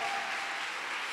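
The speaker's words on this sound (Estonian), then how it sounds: "aplaus!" Audience applause at a building's topping-out ceremony, a dense steady wash of many hands clapping without pause, loud and continuous.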